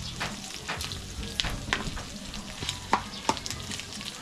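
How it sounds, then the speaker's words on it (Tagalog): Garlic and onion sauté in a pan with a close, steady sizzle, broken by sharp crackles and spatters as the pan is stirred. "Paluto lang muna natin yung ahos at saka yung bombay."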